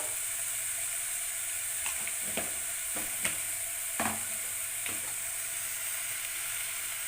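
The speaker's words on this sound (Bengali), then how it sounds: "আদাটা দেওয়ার পরও আরও কিছুক্ষণ আমরা ভেজে নেব" Ginger paste and ground spices (turmeric, coriander, salt) frying in a pan with a steady bright sizzle, punctuated by a few scraping stirs, close and continuous with no talking.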